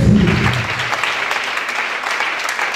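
A church congregation at a testimony service applauds and cheers, a dense, loud wash of clapping that runs steadily for the whole stretch without fading.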